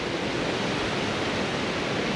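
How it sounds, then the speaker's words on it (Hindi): A waterfall along the Kedarnath trekking route roars as a steady, dense wash of falling water, loud and close, with no voices over it. "बहुत सारे वाटरफॉल है, ये भी एक और वाटरफॉल है।"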